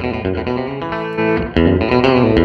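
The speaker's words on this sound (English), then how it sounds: "And I've got the slapback." Electric guitar run through a Line 6 M13 effects pedal set to slapback echo, with distorted, sustained chords and short repeats trailing each strum, loud and close with no talking.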